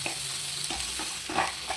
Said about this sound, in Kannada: ಆಮೇಲೆ ಈಗ ಅದೆಲ್ಲ ಫ್ರೈ ಆದಮೇಲೆ ಕ್ಯಾಪ್ಸಿಕಮ್ ಹಾಕೊಳ್ಳೋಣ